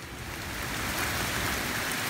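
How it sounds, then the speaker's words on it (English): Heavy rain and wind during Hurricane Matthew form a dense, continuous roar of rainfall with gusting wind, loud and steady for two seconds, with no talk. "right now we're definitely getting tons of wind and rain"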